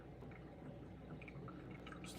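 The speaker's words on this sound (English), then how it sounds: "As you can see, coffee is dripping down, filling up." Coffee trickles through a Chemex pour-over filter into the glass brewer, a faint continuous dripping and filling sound with small drops ticking now and then.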